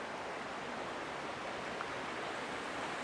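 Creek water flows steadily beside a woodland campsite, a soft, even rush that stays constant throughout with no talking.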